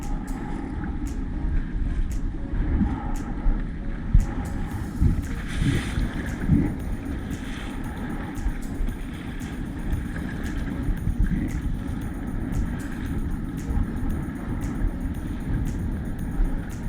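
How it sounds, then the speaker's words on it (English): Strong wind buffets the microphone out on open water during a fishing trip, a steady low roar with gusts and the faint wash of water around a small boat, continuous throughout with no talking. "we need this wind to die off"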